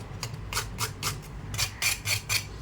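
A crispy homemade chicken spring roll crunched up close: a series of sharp, brittle crackles in quick bursts over a low background hum.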